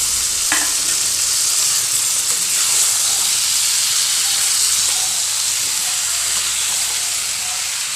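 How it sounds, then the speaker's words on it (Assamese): Eggplant and potato pieces fry in hot spiced oil with a steady, loud sizzle and hiss that runs unbroken, close up, with no talking. "এতিয়া ইয়াত মই বেঙেনা আলু যিখিনি কাটি থৈছিলোঁ সেইখিনি দি দিম।"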